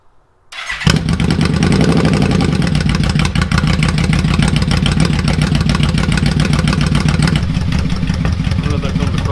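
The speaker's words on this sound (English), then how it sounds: "Then we'll pull the choke out for the first few minutes and then we'll just let it idle." A motorcycle engine fires up after a brief quiet start and settles into a loud, steady idle with the choke pulled out, a close, even mechanical rumble that continues without a break.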